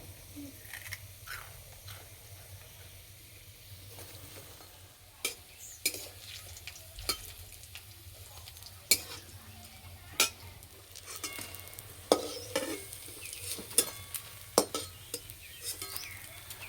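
Crispy cucumber chop fritters fry in oil with a low, continuous sizzle, while scattered metallic clicks and taps of utensils come and go over a quiet background, with no speech.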